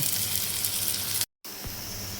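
Chopped onions with green chilies sizzle steadily in a hot pan, a constant bright hiss that cuts out briefly to silence partway through and then resumes just as strongly.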